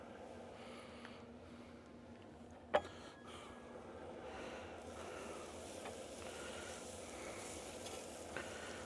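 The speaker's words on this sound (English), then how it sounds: "That's gonna go down on the griddle." Butter and asparagus on a backyard griddle give a steady, close sizzle throughout, broken by one sharp clack of a utensil near the start and a faint tap near the end.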